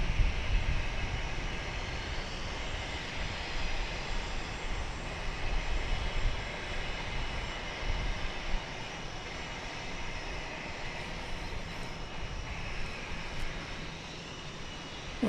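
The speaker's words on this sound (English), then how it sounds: "that Frontier flight is kind of circled around now" Jet engine roar from an airliner at DFW airport, a steady distant rumble and whine holding throughout, fairly faint and without talk.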